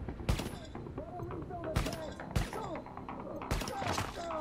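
Gunfire in the video game Tom Clancy's The Division, with several sharp, loud shots in irregular bursts and impact thuds mixed with game sound effects.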